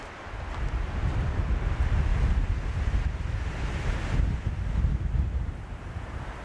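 Strong wind gusting near 70 mph across snowy Rocky Mountain National Park, a continuous low roar swelling and easing in buffeting surges that batter the microphone.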